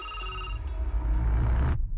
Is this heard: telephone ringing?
yes